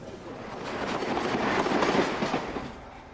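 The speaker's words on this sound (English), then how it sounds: "Mostly out the Chiltern Railway turbo service between Birmingham and London." Chiltern Railways turbo train running between Birmingham and London, a steady rumbling roll with rhythmic wheel clatter that swells slightly in the middle, heard from inside or close by.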